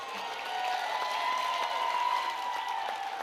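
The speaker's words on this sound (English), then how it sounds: "Let's give Noah Neri and Sabrina Warren a big round of applause" An audience at a school district state-of-the-district event applauds two students, giving steady, sustained clapping from a room full of people at an even volume, with a faint ringing hum running underneath.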